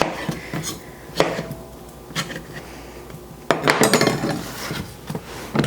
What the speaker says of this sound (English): So I'm just going to cut these larger pieces of mango into quarters.